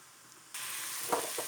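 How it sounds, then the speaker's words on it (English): Onions hit a hot pan for a sauté, a sudden loud sizzle starting after a quiet moment and holding steady, with a couple of brief clinks near the end, close up and without speech. "So put your onions in and just soften them up, saute them a little bit"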